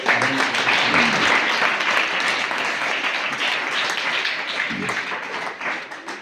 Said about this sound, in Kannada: ಅವರಿಗೆ ನೀವೆಲ್ಲರೂ ಜೋರಾಗಿ ಒಂದು ಸರ್ತಿ ಚಪ್ಪಾಳೆಯನ್ನು ತಟ್ಟಿ